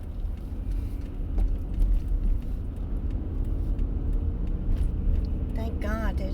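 Car traffic on the Long Island Expressway near a crash scene with fire engines and police, a steady loud road rumble throughout, a voice talking over it near the end.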